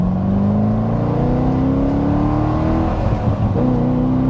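A 2007 Corvette Z06 V8 engine accelerates in second gear with a deep, loud, rising growl, heard up close from inside the car, with a brief dip near the end.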